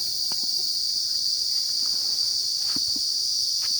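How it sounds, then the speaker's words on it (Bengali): Crickets chirp steadily in a forest, a continuous high, bright trill that runs throughout, with scattered faint insect calls and small rustles underneath; no talking. "খালি ঝিঝি পোকার ডাক, আর এই চারিদিকে বন বাজারের বিভিন্ন ধরনের পোকা"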